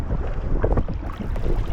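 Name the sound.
strong wind while kayaking on Lake Superior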